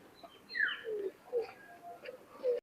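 A pair of Pakistani Teddy pigeons gives soft, intermittent coos and short calls close by, quiet against a still background.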